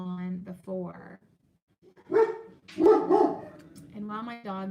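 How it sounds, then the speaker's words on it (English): A dog barks in a few spaced bursts, fairly close and fairly loud, with whimper-like yips between them. "my dog's barking"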